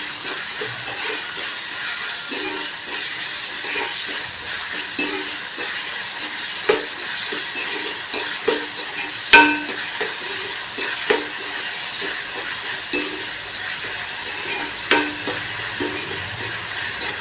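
Onions fry in coconut oil with a steady sizzling hiss while a utensil stirs them, scraping and knocking against the pan at irregular intervals, close and clear with no voices.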